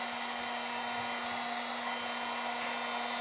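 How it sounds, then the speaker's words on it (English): A heat gun runs continuously with a steady, loud hum and whoosh, unchanging throughout and with no voices, while thermoplastic is worked for a cosplay Voltron paladin helmet. "Sorry if the heat gun's really loud."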